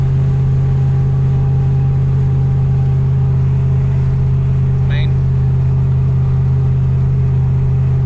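A 2000 Ram 1500 pickup truck engine drones steadily and loudly in overdrive while climbing a grade. The low, constant hum holds throughout, with a voice speaking over it.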